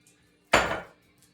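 Kitchen dishes knocked together in a single close, loud clatter that rings briefly and fades within a fraction of a second, surrounded by near silence.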